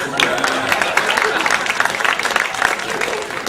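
Continuous audience applause and cheering fill the room at a stand-up comedy show, dense and loud throughout with no break.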